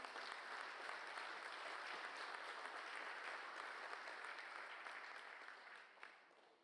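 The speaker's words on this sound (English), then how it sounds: "let's give ourselves a round of applause" Steady round of applause from a conference audience at a Huawei Cloud event, dense broadband clapping holding evenly for several seconds before tapering slightly at the end; fairly faint and distant.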